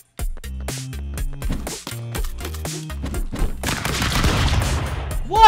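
Stick Fight: The Game opens with plinking tonal game music, then shots pile into a loud, rapid clatter of gunfire that grows denser toward the end.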